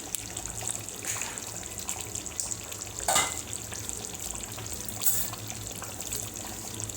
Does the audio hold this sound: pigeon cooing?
no